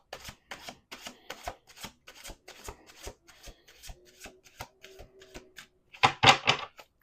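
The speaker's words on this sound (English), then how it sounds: "Let's do 2 more shuffles." Tarot cards are shuffled in quick crisp riffles and taps, a rapid series of sharp flicks, ending with a louder burst of riffling.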